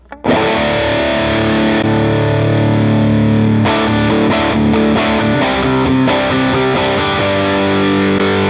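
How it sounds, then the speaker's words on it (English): An electric guitar plays sustained, chorded riffs through a Tube Screamer overdrive on a Line 6 Helix, loud and continuous with a thick, saturated tone and a few rhythmic chord changes. "This is the Tube Screamer."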